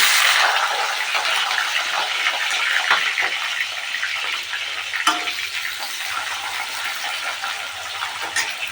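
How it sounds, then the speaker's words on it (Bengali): Flat beans frying in oil in the same pan used for fish, a steady loud hiss and crackle that runs continuously and close throughout, with no voices. "এবার ওই তেলেই আমি শিমগুলো ভেজে নিচ্ছি।"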